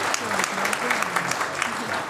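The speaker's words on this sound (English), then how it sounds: "give a round of applause" Audience applause after a panel session at an out-of-home advertising forum, steady dense clapping filling the room with some voice-like tones mixed underneath.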